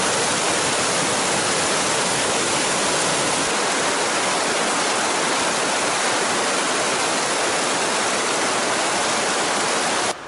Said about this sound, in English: crossing bridge over Small Creek coming down the mountainside